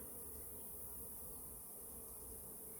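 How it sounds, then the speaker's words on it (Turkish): Carniolan honey bees buzz in a steady, dense drone, close and continuous throughout, with no voices. "Karnıyol arılar."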